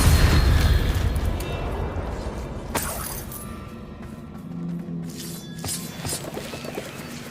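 Incendio fire spell cast in Hogwarts Legacy, a loud fiery burst at the start that decays into a crackling, rumbling tail, followed by a sharp impact and softer lingering flames.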